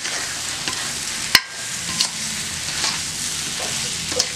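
Eggplant sizzling in hot oil in a pan while being stirred for a gravy, a steady close frying hiss with a sharp spoon clack and a few lighter scrapes.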